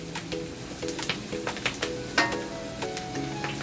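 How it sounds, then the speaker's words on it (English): Egg chowmein ingredients fry in a pan with a soft steady sizzle, punctuated by light clinks and scrapes of stirring and tossing, close by, while faint tonal background music plays underneath. "Let this fry well for a short while."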